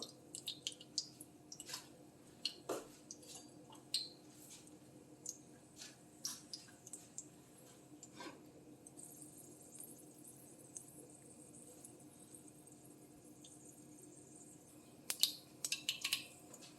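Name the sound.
mustard seeds and urad dal frying in oil in a kadai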